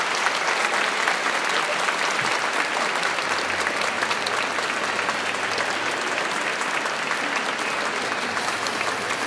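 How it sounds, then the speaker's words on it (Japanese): An audience applauds loudly and steadily at an Akita Northern Happinets basketball team anniversary event, a dense wash of many hands clapping that continues without pause throughout. "皆様拍手でお迎えください。"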